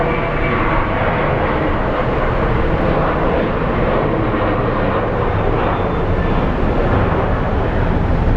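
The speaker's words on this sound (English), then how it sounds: "we're waiting for my friend's plane to land" A passenger airplane landing at Sky Harbor International Airport roars loudly and steadily throughout, a broad continuous jet engine rumble close by with no talk.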